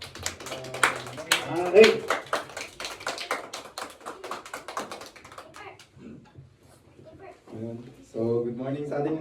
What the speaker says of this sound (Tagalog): Bigyan natin siya ng palakpak.